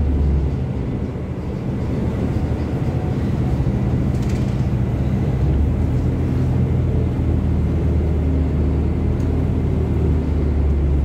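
A steady, loud low rumble and engine whir come from inside a moving bus on a university campus road, constant throughout with only faint shifts in tone.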